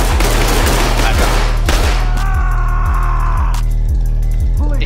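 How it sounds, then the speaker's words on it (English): Dense, rapid gunfire from two enemies in a SWAT tactical shooter game, bursts firing loud and continuous throughout, with a steady low rumble and a few sharper cracks layered in. "there's two of them shooting at me"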